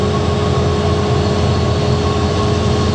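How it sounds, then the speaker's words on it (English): A big wheel loader at a screening job, in need of a new muffler, runs with a steady, loud, low engine drone and a constant tonal hum, close by with no talk over it. "Tyler's here to run the wheel loader."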